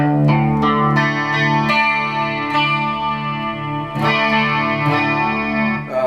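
Electric guitar in open D A D A A D tuning, strummed chords ringing out through a chorus effect with slight distortion, loud and alone, several chord changes over a sustained wash.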